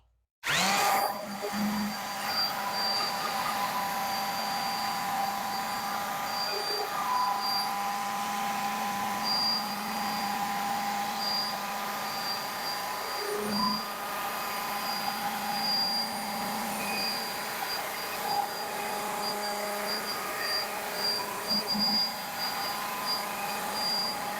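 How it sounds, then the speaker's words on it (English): Steady whir with a faint rasping texture runs continuously as a wooden cutting board is sanded with 120-grit sandpaper at moderate distance, with no talking. "I finished sanding with the 100 grit, and now I'm moving on to 120"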